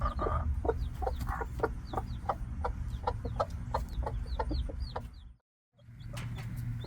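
A black hen clucks in a steady rhythm, about a dozen short soft clucks, as she tends two day-old chicks in a coop yard, with thin chick peeps above and a brief gap near the end.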